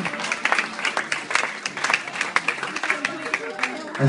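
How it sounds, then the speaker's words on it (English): An audience claps for dancers at a live show with a singer, scattered individual claps forming an uneven patter over a few seconds, with voices mixed in. "Give the dancers a round of applause."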